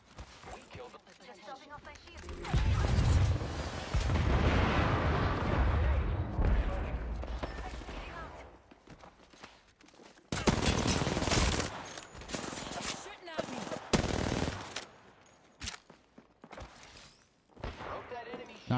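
Bursts of automatic gunfire ring out in an Apex Legends ranked match, loud rapid volleys in several bursts with pauses between, mixed with game sounds.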